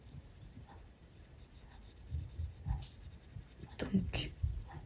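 A pen scratches and rubs softly on paper while a paper letter A is coloured in, quiet and close, with faint pen strokes at irregular intervals.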